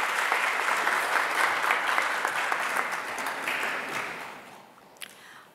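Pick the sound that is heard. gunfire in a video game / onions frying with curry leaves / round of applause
round of applause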